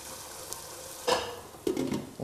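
Dry crayfish, pepper and soup base sizzle in a pot for melon soup, a soft frying hiss with a few distinct scraping stir strokes near the end, close and without speech.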